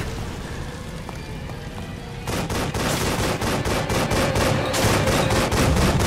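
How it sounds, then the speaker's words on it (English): Machine gun fire in The Evil Within video game: after a low ambient stretch, rapid sustained bursts of automatic shots erupt and continue loud and steady to the end, with no talking. "Machine gun."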